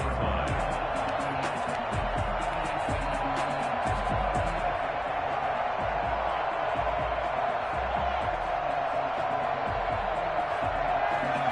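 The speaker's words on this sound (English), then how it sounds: "The crowd may be losing just a little bit of the edge after back-to-back punts" A steady, dense roar from a stadium crowd at a football game in the Madden video game, holding a constant loud level throughout as a broad wash of cheering and murmur.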